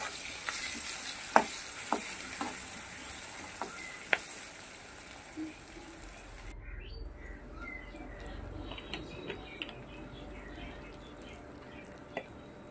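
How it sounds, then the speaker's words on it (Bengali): Onions fry in oil in a pan for a Bengali pabda fish dish, a soft continuous sizzle with scattered small pops and crackles, fairly quiet and close, with occasional clinks of stirring. "এবার এটাকে আমি লাল লাল করে ভেজে নেব।"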